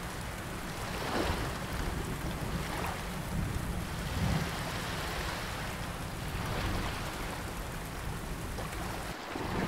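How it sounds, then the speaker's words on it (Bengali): Storm effect of heavy rain and churning river waves around a small boat, a steady soft wash of hiss and surging water with gentle swells, fairly quiet and without voices. "নৌকা আর কিছু এগোতেই প্রবল জোরে বৃষ্টি শুরু হলো, আর সাথে নদীর উত্তর ঢেউ"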